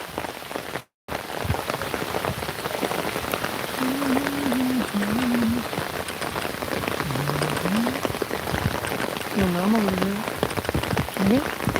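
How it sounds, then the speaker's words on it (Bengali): Steady rain falling on a wet village dirt road beside the Chiknai river, a dense continuous patter heard up close throughout, with a brief dropout near the start and some faint voice-like tones in the background. "বৃষ্টি ভেজা আদার রোড"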